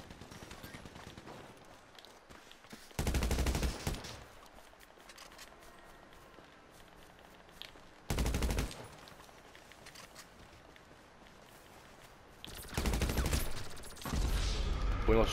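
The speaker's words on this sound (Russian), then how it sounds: "Понял, что стреляет с этого, с плазматроном." Plasma gun fire in a GTA V Online trailer-park shootout, loud full-band bursts at roughly three, eight and thirteen seconds over a busy background of game sounds and footsteps, with another burst at the end.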